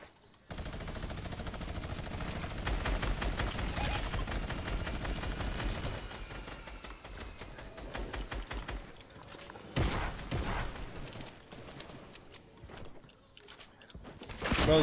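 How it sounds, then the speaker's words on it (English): Rapid sustained bursts of minigun fire in Fortnite, a dense rattling stream of shots that runs continuously for several seconds, breaks off, then returns in shorter volleys at moderate level with no talking. "I have a minigun."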